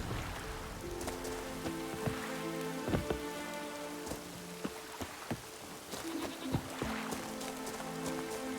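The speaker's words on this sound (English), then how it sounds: "Rain in fucking buckets." Heavy rain pours down in The Witcher 3, a steady dense patter on surfaces with scattered louder drops and splashes, plus faint tonal game sounds in the background.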